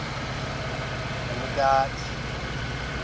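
A 1988 Honda CRX Si engine idles steadily with headlights and rear defroster on, a constant low rumble running throughout while someone speaks briefly over it.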